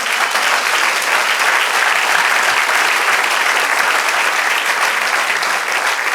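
A church congregation claps together during a Spanish-language sermon, producing a loud, sustained, evenly textured roar of applause that holds steady for several seconds without any speech on top.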